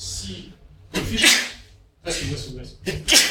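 A sneeze bursts out sharply in a lecture hall, loud and close, amid a lecturer talking in short phrases.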